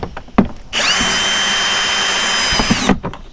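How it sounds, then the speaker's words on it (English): A power drill whines at high pitch for about two seconds, drilling aeration holes in a compost bin, bracketed by a few knocks and clicks before and after. "Drill holes"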